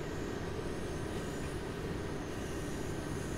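A German BR45 electric train running in Train Sim World 3 on the Bremen–Oldenburg line, a continuous even rolling rumble with a faint high whine, steady and unbroken.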